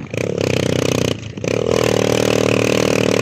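Motorcycle engines revving on a busy road in San Roman, Northern Samar, a steady loud rumble that dips briefly then swells again, heard continuously with no talk.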